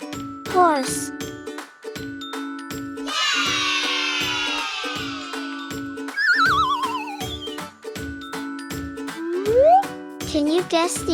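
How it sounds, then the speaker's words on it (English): Horse neighing, a bright whinny with sweeping pitch set against a steady rhythmic musical backing with jingles, repeated in short calls. "Horse."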